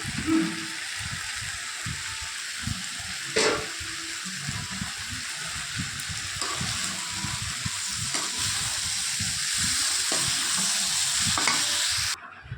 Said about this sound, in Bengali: জল দিয়ে দেবো আর চিংড়ি মাছ ভেজে রাখাগুলো দিয়ে দেবো।